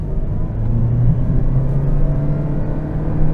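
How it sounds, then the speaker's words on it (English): 2023 Toyota Prius hybrid at full throttle: a steady, close engine drone with a rising whine that climbs in pitch as the car pulls, no talk. "Let's just floor it here."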